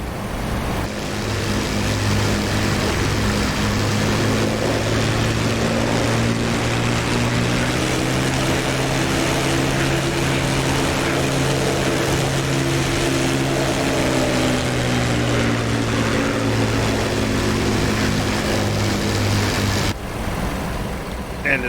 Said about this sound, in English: all the external audio, which was captured from a real Bf-109